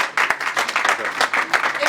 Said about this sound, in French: Merci d'applaudir Stéphane Njigi.